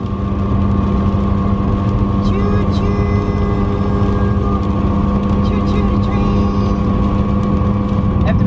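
A car cruises along a highway with steady loud road and engine drone and a sustained tonal hum, with occasional brief higher noises over the constant roar.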